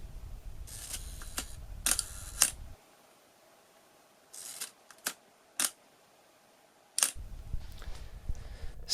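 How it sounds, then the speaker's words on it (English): Vintage Ihagee EXA 500 camera shutter firing at slow speeds, a series of crisp mechanical clicks and snaps, some paired with a short timed gap between, heard close and alone over a quiet room with a low hum in places. "here are the slower shutter speeds again"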